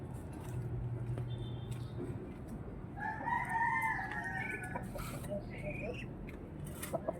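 Rooster crowing and chickens clucking in a backyard farm pen, with crow-like calls rising over steady low noise and soft clucks mid-clip.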